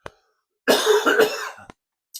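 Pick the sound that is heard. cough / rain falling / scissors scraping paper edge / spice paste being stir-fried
cough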